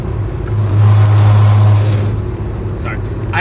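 A car cruising along a road, a steady close engine drone and tyre roar with a brief swell of revving, heard from inside the cabin.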